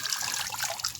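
Water runs steadily through a pipe fitting on a newly installed water tank during a flow test, a continuous close hiss and trickle with no talking.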